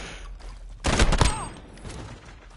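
Pistol fire from the Modern Warfare video game: a quick burst of several close, loud shots fired in rapid succession, standing out over steady game background noise.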